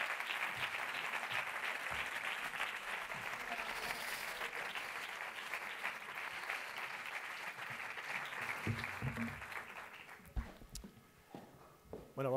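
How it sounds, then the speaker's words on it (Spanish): A large audience at a film festival closing award ceremony claps loudly and continuously for a short-film prize winner, the applause fading and thinning out near the end amid scattered footsteps. "Un fuerte aplauso."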